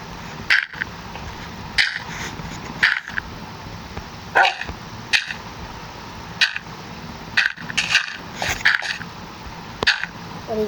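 A dog barks repeatedly, about a dozen sharp, loud barks in an irregular rhythm, some in quick pairs, close by over a quiet background.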